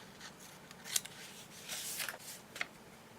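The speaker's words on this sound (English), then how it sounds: "So, I'm going to cut a little bit off this side." Several quick, faint snips of scissors cutting paper while trimming a notebook setup, spaced irregularly over a few seconds with light rustling between cuts, close and quiet with no talk.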